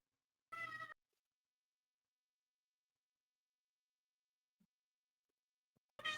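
A single short house cat meow close by, followed by near silence with a couple of tiny faint ticks and the start of another brief meow right at the end.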